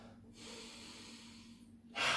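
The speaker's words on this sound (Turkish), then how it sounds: "Şimdi derin nefes alıyorum." A deep breath taken during an indoor home walking workout, a soft close inhale followed by a louder, breathy exhale at the end.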